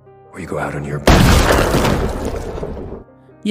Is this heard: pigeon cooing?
no